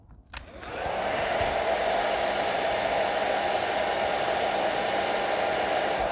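A hair dryer used on mohair switches on after a brief click and then blows steadily with a constant loud whooshing hum, no talking.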